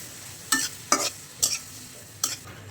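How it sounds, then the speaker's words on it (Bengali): Chili powder and turmeric sizzle lightly in a pan for a dried chapila fish bharta, stirred in four distinct scraping strokes over a soft, steady fry. "হাফ চামচ গুঁড়ো মরিচ হাফ চামচ হলুদের গুঁড়া দিলাম এখন তো হালকা একটু ভাজি করে নেব"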